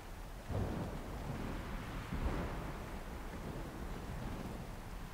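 Storm thunder and rain effects in the video game Ark: Scorched Earth, a steady broadband roar with two deeper rumbling swells, alone with no voices.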